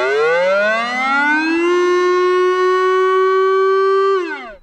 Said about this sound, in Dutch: De veiligheidsregio gaat mensen proberen te bereiken via de bekende sirene.